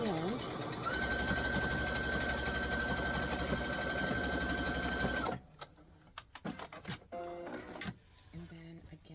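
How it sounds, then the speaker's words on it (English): A sewing machine runs a straight line of stitching across a shirt seam using the machine's guide, a steady, even whir for about five seconds that then stops, followed by quieter handling noises and a voice talking. "I'm using the guide on my machine here and just sewing straight across"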